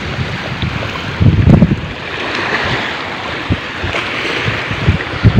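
Sea waves wash against a rocky shore while wind buffets the microphone, forming a steady broadband roar with a louder surge of surf and gusts near the start.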